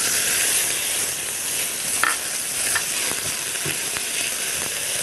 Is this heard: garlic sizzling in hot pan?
yes